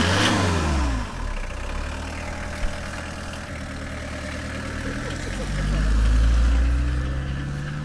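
A Renault 18 Turbo engine idles roughly and then revs up with a deep, rising growl, heard up close.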